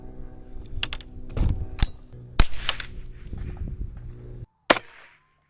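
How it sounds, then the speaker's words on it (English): Sharp cracks from a semi-automatic .22LR rifle firing .22 Short rounds that fail to eject, several spaced shots with mechanical clicks and handling noise between them, close and loud. "let's see if we can get a gun to do a gun thing. Failure to eject."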